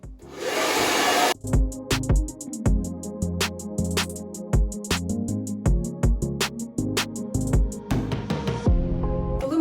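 A hair dryer dries damp hair, its steady whirring motor tone shifting in pitch as it is moved and adjusted, loud and close with no talking.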